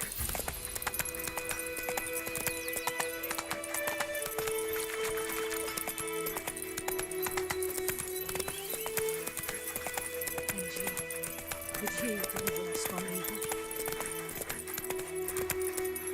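Hooves of Roach, a horse in the video game The Witcher 3: Wild Hunt, clip-clopping at a steady galloping rhythm over game music and ambience, with a brief whinny, no talk.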